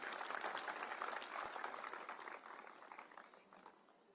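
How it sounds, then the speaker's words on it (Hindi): Dense applause from a large crowd at an electric heater distribution event, loud at first and gradually thinning toward the end, with no talking over it. "एक बार जोरदार तालियां आप सभी के लिए।"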